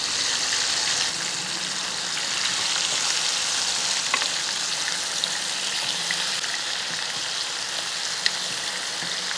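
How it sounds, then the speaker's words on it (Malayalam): Masala-coated fish fries in a hot pan for a Kerala-style fish fry, a steady, close, continuous sizzle with faint crackles and no talking. "ഒരു ഭാഗം ഒന്ന് ഫ്രൈ ചെയ്തതിന് ശേഷം ഒന്ന് മറിച്ചിട്ട് കൊടുക്കുക"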